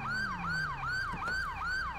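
Sirens of police backup units in GTA V with LSPDFR wail in fast, rhythmic rising and falling sweeps, loud and near, with vehicle engine rumble underneath.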